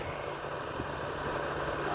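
Komatsu PC200-6 excavator engine idling, a constant low, humming drone with a steady tone and no change in pace, heard close and alone.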